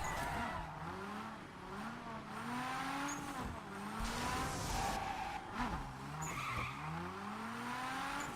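A car in the racing game Wreckreation slides through a handbrake skid, tires squealing in wavering pitched streaks over a continuous engine drone, loud and close with no talking.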